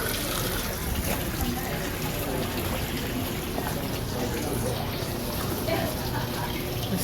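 Water trickling from a spring fountain at a campground in St. Augustine, a steady, fairly quiet splashing and dribbling that runs continuously under background noise.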